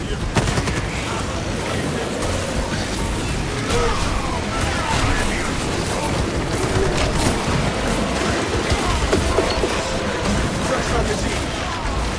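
Dense, sustained roar of gunfire and explosions during a frag grenade blast in Warhammer 40K Space Marine, an Ultramarine Bulwark fighting Tyranids on Absolute difficulty. Loud, continuous battle noise without a clear single boom.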